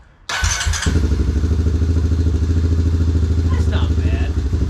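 A Yamaha Raptor 700R ATV engine cold-starts on choke with a sharp catch, then settles into a loud, steady, throbbing idle close by, while a person talks briefly over it.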